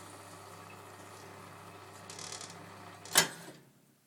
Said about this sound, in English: That noise is it sucking up water.